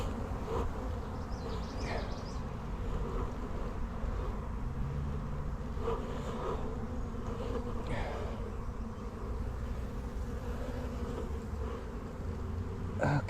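A dense, steady drone of honeybees swarming inside an open beehive, loud and close throughout, with a few brief louder passes of single bees near the ear.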